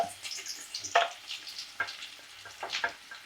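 Mustard seeds, cumin and onion frying in hot oil, a soft steady sizzle with crackles and scattered sharp pops, close but fairly quiet.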